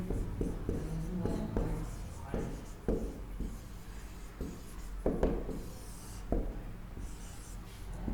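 Chalk or marker strokes scraping across a board in a classroom agronomy lesson, repeated rubbing scratches in bursts with short pauses, close and fairly clear.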